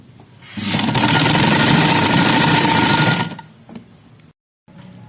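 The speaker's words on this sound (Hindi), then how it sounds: "इसी तरह से पूरी बेल्ट पे मैं सिलाई लगाऊंगी" A sewing machine stitches along a shalwar belt in one loud, continuous buzzing run of almost three seconds, then stops, followed by a few faint mechanical clicks and a brief silence.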